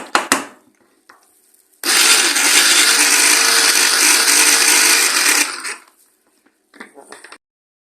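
Blender whirring loudly and steadily for a few seconds, then cutting off, with brief clatter before and after.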